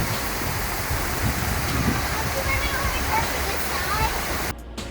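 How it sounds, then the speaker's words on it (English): Heavy storm rain pounds a tin roof in a dense, loud, continuous roar, steady for several seconds before cutting off abruptly near the end. "Storm is now intensified."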